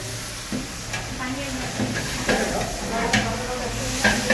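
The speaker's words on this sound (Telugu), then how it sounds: "ఇప్పుడు టమాటాలు వేస్తున్నాము." Tomatoes and onions frying in a pan for Telangana-style chicken curry, a continuous hiss and sizzle with soft stirring scrapes throughout, close and moderately loud.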